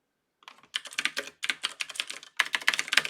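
Rapid clattering keystrokes on a CODE mechanical computer keyboard, a dense run of close, crisp clicks in bursts with a brief pause, no voices.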